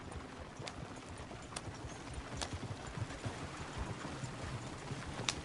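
Horse hooves clip-clopping in a cowboy video game, a steady uneven patter of hoofbeats at moderate distance, faint outdoor ambience, no talk.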